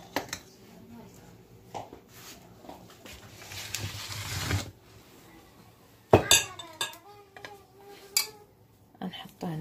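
A spoon works briouat filling around a bowl, with scattered clinks and scrapes of utensil against the dish, a couple of louder knocks, and quieter stirring between them.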